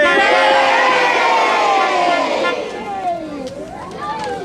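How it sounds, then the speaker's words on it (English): A group of children cheers and whoops loudly together during a Halloween play in New Cross in 2011, with sliding shouted voices that overlap and fade slightly toward the end. "lifting him up with a hoop and a cheer."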